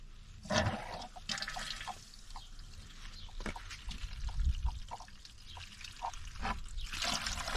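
Water runs from an outdoor spigot that had a slow leak patched with epoxy, a steady trickling and splashing stream at close range that rises and falls slightly as it pours, with no talk over it.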